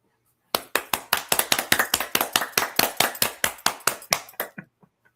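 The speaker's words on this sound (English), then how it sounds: "That's what applause means." A single person claps in a quick, sharp, steady rhythm of about twenty close crisp claps, then slows and stops with a few final softer claps.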